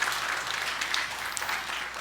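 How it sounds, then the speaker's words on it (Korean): A church congregation applauds mothers who have given birth, a brief, steady burst of many hands clapping together, moderately loud and without speech. "그런 의미에서 우리 아이를 낳은 어머니들 우리 박수 한번 하겠습니다."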